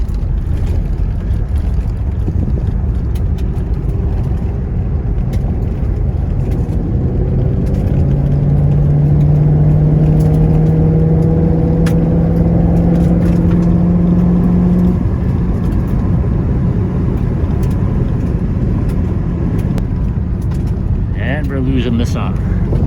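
A Cadillac Eldorado under full throttle, its engine rumbling loudly inside the car with a rising tone as it pulls through the gears, steady and close throughout.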